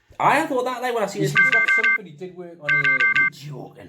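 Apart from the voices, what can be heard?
phone alarm going off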